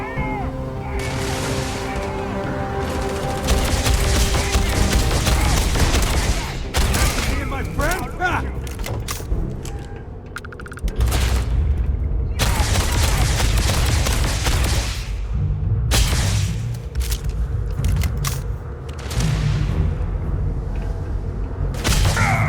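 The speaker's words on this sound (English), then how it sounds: "Who y'all shooting at?" Gunfire in Starfield, repeated bursts of loud blasts and booming shots spread across a long firefight, with quieter gaps between volleys and voices talking in places.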